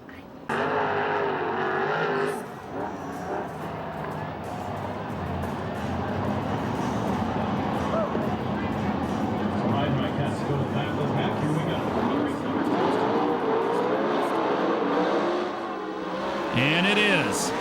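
Sprint cars in a USAC/CRA race on the Perris, California oval roar loudly and continuously as they come off a turn, engines droning over a race announcer's voice.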